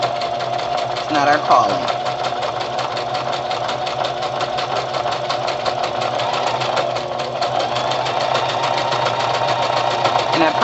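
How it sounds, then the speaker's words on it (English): A sewing machine stitches fabric for a gratitude journal's pockets and tuck spots, its needle running in a steady, rapid mechanical chatter throughout, with someone talking briefly over it. "I'm just doing a little stitching to show you what the effect will be."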